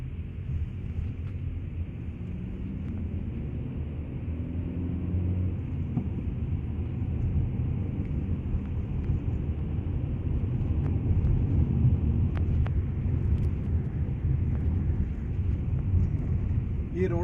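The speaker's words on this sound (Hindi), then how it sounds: "यहाँ पे भी जो इनसाइड कैबिन नॉइज है वो बड़े आराम से आप सुन सकते हैं" Steady low rumble of road and engine noise inside a moving 2022 Maruti Baleno facelift on a broken, uneven road, with occasional faint knocks and rattles.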